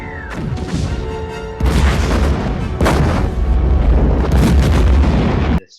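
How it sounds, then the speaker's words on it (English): Quantum torpedoes are launched in a space battle from the Star Trek film First Contact, making several heavy booming blasts in quick succession over a dense, rumbling effects and score bed, loud and close. "4 quantum torpedoes pretty quickly"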